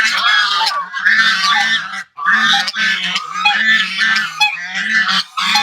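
A room full of ducks honks harshly and loudly, with overlapping nasal calls in rapid bursts broken by one brief pause.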